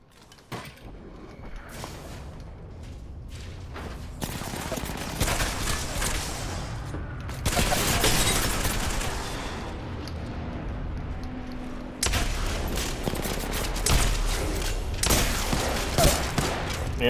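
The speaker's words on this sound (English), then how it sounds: "I got him in the face with a shotgun, though." Shotgun blasts and other gunfire from the video game Apex Legends crack in dense, uneven bursts amid a busy battle mix of impacts and mechanical clatter.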